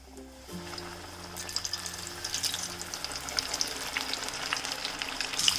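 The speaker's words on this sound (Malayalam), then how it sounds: "നമുക്കിത് ഫ്രൈ ചെയ്ത് കൊടുക്കാം. നല്ല ചൂടായ എണ്ണ." Chicken pieces dropped into hot oil burst into a lively sizzle after a brief low rumble, the bubbling crackle building and staying steady, close and moderately loud, with no voices.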